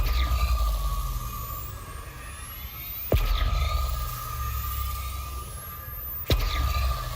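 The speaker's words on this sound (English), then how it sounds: "The scanner sounds super cool" Elite Dangerous ship scanner heard as two sharp downward-sweeping electronic pings about three seconds apart, each swelling out of a steady synthetic hum and rising tones inside the cockpit.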